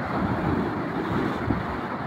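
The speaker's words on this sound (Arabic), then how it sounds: "وهذا البحر" Sea waves wash against a rocky shore at Marsa Matruh with wind, a steady close rushing surf and breeze under light microphone buffeting, with no voices.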